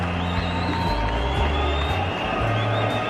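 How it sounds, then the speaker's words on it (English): A cricket crowd murmurs and groans in disappointment after a big hit into the deep, a steady broad wash of many voices with a low rumble underneath, fairly loud and continuous. "Disappointment in the crowd"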